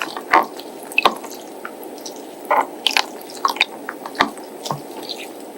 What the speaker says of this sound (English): Adding water to our bottle.